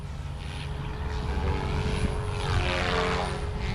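An RC helicopter's rotor and motor whir steadily at idle up on the bench, a loud continuous drone that rises slightly in intensity.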